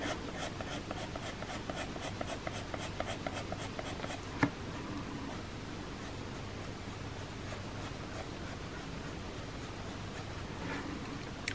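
A coloured pencil strokes across paper in a fall-themed colouring page, a quiet, close scratchy rubbing in quick repeated strokes at first, then longer steady shading, with one small tap midway.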